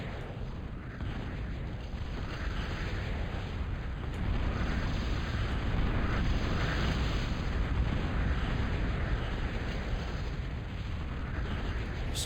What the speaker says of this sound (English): Some shelling.